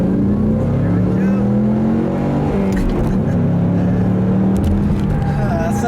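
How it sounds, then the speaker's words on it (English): A modified Ford Mustang pulls hard in second gear onto a highway, its engine note climbing in a loud, sustained rising roar, with a brief dip like a shift around the middle. "We'll do a second gear pull here onto the highway."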